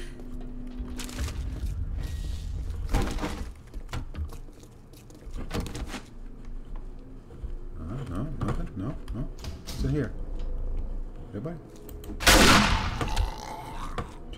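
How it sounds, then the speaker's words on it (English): Shotgun blasts in the video game 7 Days To Die, several loud, separate booms spaced seconds apart amid mechanical clicks and scattered game noises, with a louder burst near the end. "Let's get a little shotgun action going."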